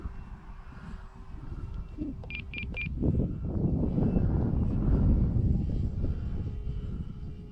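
An AVIOS King Twin RC model airplane takes off into the wind, its twin engines' whine rising from a few beeps into a steady, fairly loud drone that fades slightly as it climbs, with no talk.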